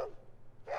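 In the Fallout 2 video game, a dog gives two short barks, one at the start and one at the end of a brief moment, fairly faint over a low background hum.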